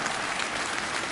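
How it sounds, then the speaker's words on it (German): A brief burst of dense, steady audience applause at an Advent sing-along concert, loud and even throughout. "Applaus"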